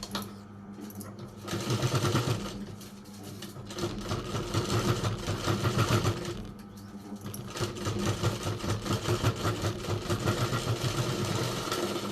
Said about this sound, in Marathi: आता हे आपल्याला याच्यावरती हे शिवून घ्यायचे